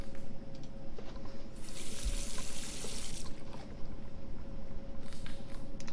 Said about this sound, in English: All that remains is to rinse the plate.